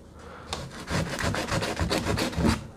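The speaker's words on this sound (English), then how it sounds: "So you just get the sandpaper" Sandpaper scrubs back and forth on wood furniture being prepared for stain, a quick series of close, raspy strokes in steady rhythm with no talking.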